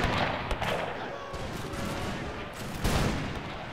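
Dense, continuous rifle volleys from the 24th Regiment rattle through a video game battle recreating Isandlwana in the Anglo-Zulu War, with sharper cracks standing out near the start and again near the end.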